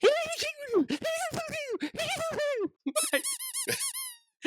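A rapid series of high, rubbery squeaks in irregular bursts, like a squeeze toy pressed again and again, with a short pause midway; a penguin waddling on squeaky toys.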